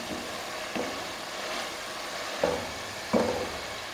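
Masala for Punjabi-style dal wadiyan being fried and stirred in a pan, a soft steady sizzle broken by a few sharper scraping stirs, fairly close with no talk.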